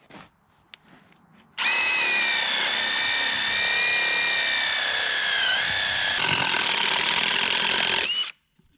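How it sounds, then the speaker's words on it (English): After a few faint knocks, a power drill whirs loudly and steadily for about six seconds while drilling a hole during repairs on a 1995 Ford F-350, its pitch dipping slightly under load, then stops abruptly. "Now I can drill my hole."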